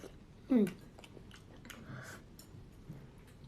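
Someone chews deep-fried Hakka stuffed tofu, with a quiet close crunch near the start followed by softer chewing and faint mouth sounds.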